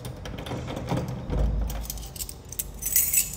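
Keys jangle and scrape close by while someone fumbles to unlock a lock, with metallic rattles, soft clinks and shuffling handling noise in a short, busy burst.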